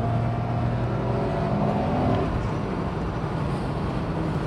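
A Mercedes-Benz 280SL engine pulls hard after a downshift, a loud, steady, close mechanical roar that holds even for the whole stretch with no clear rise in pitch.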